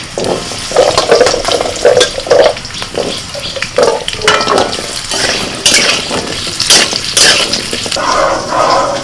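Potatoes fry in hot oil with nigella seeds and slit green chillies, giving a loud, continuous sizzle broken by repeated scraping stirs of a spatula against the pan.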